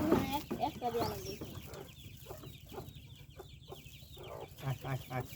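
Native village chickens cluck in short, irregular bursts close by while people talk over them, with a steady hum underneath.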